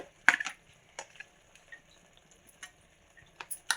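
Cumin and coriander powder masala for a prawn curry cooking in a pan, with soft sizzling under scattered scraping stirs and sharp clinks from a spoon against the pan.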